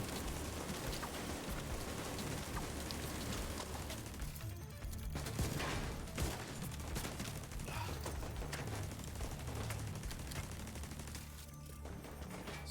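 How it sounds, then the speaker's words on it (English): Dense bursts of gunfire and grenade blasts in The Division 2 hardcore mode, rapid continuous shooting with heavier explosive thumps scattered throughout, loud and busy with no talk. "Now they're throwing grenades."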